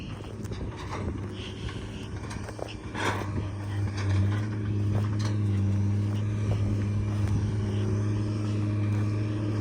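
A Kenworth semi truck engine idles with a steady low drone that grows louder and holds constant, with scattered clunks and wind buffeting at the start.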